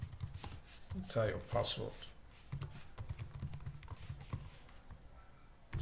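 Fingers tap out code on a computer keyboard in quick, uneven bursts of clicks, close and moderately loud, while a person talks over the typing.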